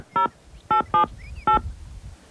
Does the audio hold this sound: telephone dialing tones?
yes